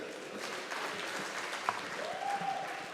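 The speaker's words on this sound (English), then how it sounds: "Please give him a resounding round of applause." Applause ripples through the audience at a Nigerian diaspora investment summit, a steady moderate clapping with a brief sharp knock and a faint tonal whine partway through.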